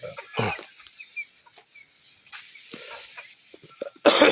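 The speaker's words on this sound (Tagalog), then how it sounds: "Ayan, mga manok." Chickens on a farm lot cluck in short scattered bursts, moderately close, with a louder flurry at the start and end and quiet gaps between.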